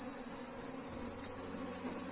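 Honeybees buzz around a hive frame in a dense, continuous high drone, close and steady throughout, no voices.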